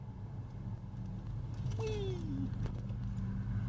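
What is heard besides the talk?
1984 Chevrolet Caprice driving off after brake replacement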